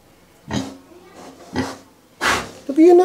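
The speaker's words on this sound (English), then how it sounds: "I think I can hear another pig." Two pigs at a mountain stronghold give a series of three or four short, loud snorting grunts spaced about a second apart, with a voice rising near the end.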